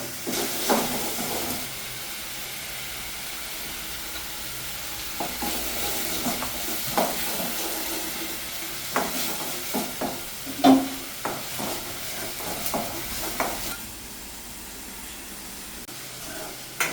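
Onion paste frying in oil in a pan while being stirred, a soft steady sizzle under repeated scraping and clinking strokes of a spoon, close by, no talking.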